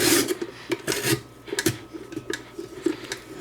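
Vegetable pieces scrape across a Wolfgang Puck mandoline slicer blade in quick, uneven rasping strokes, close and fairly loud, with no one speaking.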